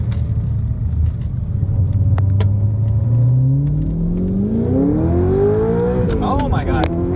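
An Audi R8 engine with a manual gearbox revs up and accelerates, its pitch climbing steadily to a loud high whine before the next gear, with a brief voice near the end.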